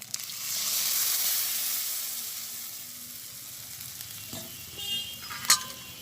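A low, even sizzle rises from pointed gourd cooking in a pan as milk and almond paste go in, swelling briefly and easing off, followed near the end by a couple of crisp utensil clinks; no speech.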